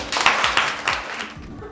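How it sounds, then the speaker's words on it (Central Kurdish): Schoolchildren in a classroom at Khabur school in Erbil clap for a classmate, a short burst of brisk, uneven hand claps that fades after a moment. "یەک چەپڵەی لۆ ساڕێژی"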